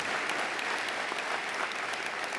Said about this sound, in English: a big round of applause to all our student athletes that are here with us today.